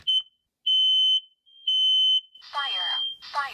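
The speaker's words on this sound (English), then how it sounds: "it does turn on the smoke detector alarm" A smoke detector, set off by fog from a Magic Mixies toy cauldron, emits loud, close, piercing high beeps in a repeating pattern of long tones, and a person talks over the last beeps.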